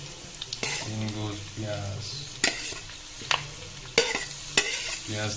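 Onion frying with pork in a pan with no oil makes a soft sizzle under a voice. Sharp scrapes and clacks from a stirring utensil land at intervals of about a second.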